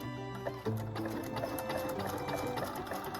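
A Husqvarna Viking #1+ sewing machine runs stitch L27 with the L cassette fitted, giving a steady mechanical hum with quick repeating needle clicks, close and continuous for a few seconds.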